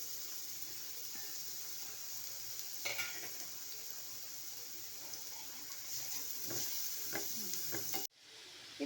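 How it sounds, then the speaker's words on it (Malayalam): Chopped onion sautéing in hot coconut oil, a steady close sizzle with occasional spoon stirs and scrapes in the pan, running alone without talk until it cuts off near the end. "ഇത് നല്ലപോലെ ഒന്ന് വഴറ്റണം."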